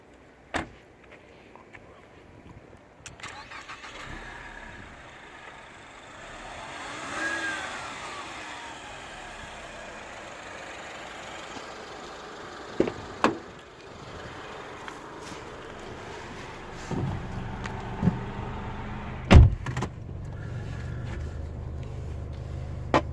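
A sporty car drives along with a steady engine hum and road noise, rising briefly under acceleration, punctuated by a few sharp knocks and clicks from inside the cabin.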